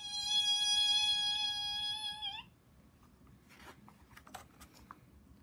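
A voice imitates the high, steady squeal of car brakes on a quick stop, holding a shrill tone for about two seconds before it cuts off, followed by faint rustling.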